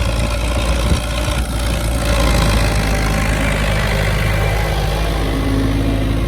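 A tractor engine runs steadily on a farm field during potato planting, a continuous loud low drone with a mid-range rumble and no break throughout.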